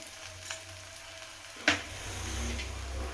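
Ragi roti fries in oil on a tawa, a soft, continuous close sizzle over a low hum, broken by one sharp clatter midway.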